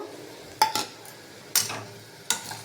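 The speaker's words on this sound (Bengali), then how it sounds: "দিয়ে এটা ভালো করে নাড়াচাড়া করে নেব" A spatula stirs lote fish (Bombay duck) with ginger-garlic paste, chili, turmeric, cumin and salt in a pan, giving three sharp metallic clinks and scrapes spaced about a second apart over a quiet background.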